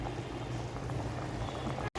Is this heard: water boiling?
yes